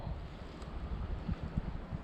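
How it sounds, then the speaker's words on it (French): A light Mistral wind on a cold March morning at a lakeside apiary buffets the microphone with continuous low rumbling gusts, steady and fairly loud, with no talk. "et puis en plus un vent, un petit Mistral des familles"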